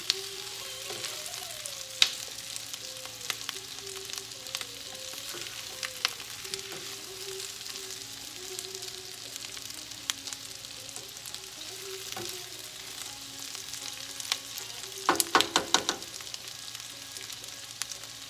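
Capsicum and potato sabzi frying in a pan while being stirred, a low, steady sizzle with scattered spoon clicks and a burst of scraping near the end, close and quiet.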